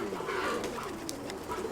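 Soft pigeons cooing amid a steady background of ambient noise and distant activity, with a few brief higher chirps.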